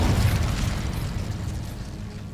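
Incendio fire spell in Hogwarts Legacy, a heavy booming burst of flame that hits loudly at once and then rumbles and fades over about two seconds.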